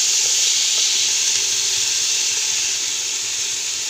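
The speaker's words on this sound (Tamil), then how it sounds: "இது நல்லா வதக்கி விட்டுக்கலாம்." Tomatoes, green chillies, mint and coriander sautéing with onions in a pan for vegetable biryani, giving a continuous steady hiss and sizzle with no talk.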